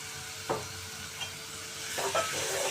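Three large ripe tomatoes, chopped small, fry over medium flame for an okra and tomato curry; a soft hiss runs throughout as a spoon scrapes and stirs three or four times, close and moderately loud, without any speech.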